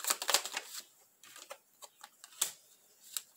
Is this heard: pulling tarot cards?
yes